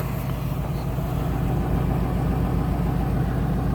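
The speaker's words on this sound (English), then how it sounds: "the truck engine is still running a little bit rough" A truck engine idles roughly outdoors in the cold, a steady low rumble running close and unbroken for the whole stretch with no voices over it.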